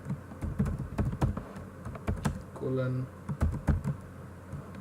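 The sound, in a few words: typing code on a computer keyboard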